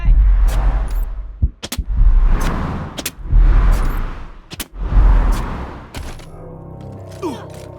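Heavy booming gunshots in the video game Wasteland 3 fire in a rapid series of loud bursts, each with sharp cracks, before fading into lighter clatter and noise.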